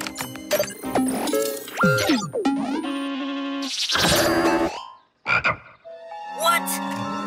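A cartoon robot dinosaur croaks like a frog, delivering a string of loud, close, warbling croaks and boings with short pauses between bursts and no voices over them.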